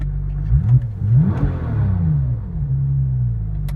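A 2002 Porsche 911 Turbo engine fitted with an aftermarket flywheel, blipped twice in quick sharp revs that rise and fall fast, then settling into a lower sustained engine hum, loud and close.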